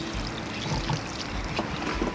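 Water is poured gently over a freshly sown seed tray, giving a soft, close trickle and splatter with small irregular bursts over a couple of seconds.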